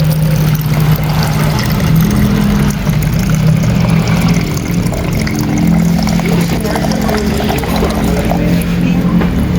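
Liquid poured steadily into a car radiator, a continuous loud gurgling pour close to the mic over a running engine, with no breaks throughout.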